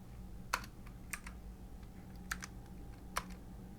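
Four separate clicky keystrokes on a computer keyboard while typing code, spaced unevenly over a quiet background hum.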